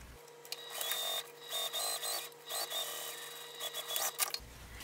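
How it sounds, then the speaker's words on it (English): A sewing machine stitches along the bottom edge of a fabric crossbody bag, whirring in several short bursts with brief pauses between, close up and fairly quiet, with no speech. "we're going to sew all along this bottom edge with 3/8 of an inch seam allowance"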